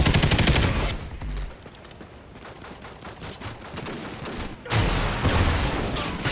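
Bursts of gunfire in a video game, a dense rapid volley opening the clip, a quieter crackling stretch in the middle, then another loud burst of shots near the end, with no talk.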